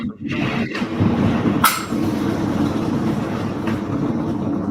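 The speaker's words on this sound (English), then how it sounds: "Like that train. Right, getting into the train now." Train passing near an event venue, a continuous rumbling clatter of rail cars with a couple of sharp squealing clicks, fairly loud and steady throughout.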